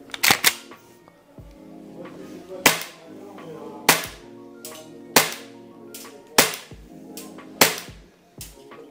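An airsoft FMG9 SMG fires sharp single shots on a range, loud and close, spaced about a second apart, with quieter mechanical clicks between them.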